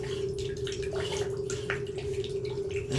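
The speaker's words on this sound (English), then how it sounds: "it looks like the toilet flush fully went through there at this point" Water from a toilet flush rushes and gurgles through a drained sewer line, a steady close wash of flow with no pauses and no talk.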